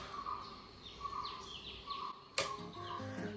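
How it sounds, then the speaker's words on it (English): Several birds chirp and sing at a distance, repeated high tweets and trills over a quiet background, with one sharp brief call near the end. "You can hear all the birds, you can hear all the animals."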